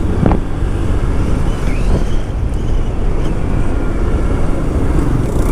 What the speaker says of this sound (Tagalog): mukhang ang lakas ng ulan ngayon ah. Grabe yung hangin, malakas-lakas.